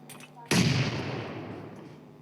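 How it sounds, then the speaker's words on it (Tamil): A grenade goes off in a battle-royale shooter game: one sudden, loud blast with a long, rumbling decay, preceded by quieter game ambience. "ஓ ஜாக்கி அடுத்த கிரனேட்"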